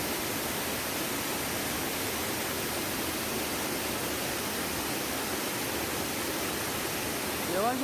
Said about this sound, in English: are formed by the Ghostani River, cascading down a series of rocks into a refreshing pool below